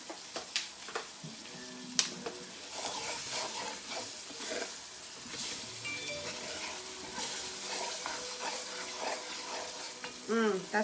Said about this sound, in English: You still got to keep kind of stirring it so your roux doesn't burn.